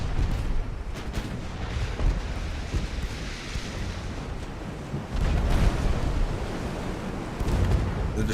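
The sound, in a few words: warship turrets firing, from naval video game Ultimate Admiral: Dreadnoughts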